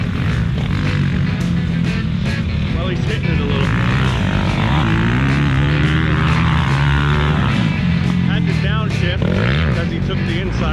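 A KTM motorcycle engine revs hard and loud as the bike races past up close, a continuous high-pitched whine rising and falling with gear changes, with a voice talking over the roar throughout.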